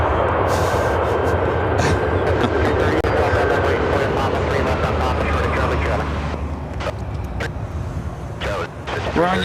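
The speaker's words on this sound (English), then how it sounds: "This is United Express 5338 coming in from Montrose on the E175." A United Express Embraer E175 regional jet touches down at O'Hare with a loud, rumbling roar that gradually eases, crossed by sharp clicks and bursts of a voice talking over it.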